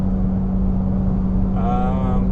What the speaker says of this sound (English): The exhaust note sounds so much nicer.